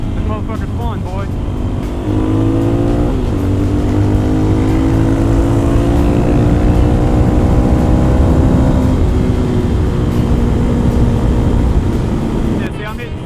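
A Suzuki DR200 motorcycle runs at high speed, its engine droning loud and steady with rising pitch through the gears over constant wind rush, with a rider talking over it.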